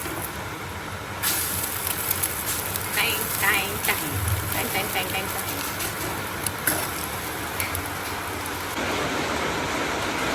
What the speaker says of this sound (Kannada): ಇವತ್ತು ಬೆಳಗ್ಗೆಯಿಂದ ಫುಲ್ ಮಳೆ ಬರ್ತಾ ಇದೆ